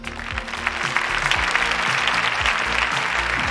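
An audience bursts into steady, dense applause at an awards show for synthesizers, loud and continuous for a few seconds with low musical tones running underneath.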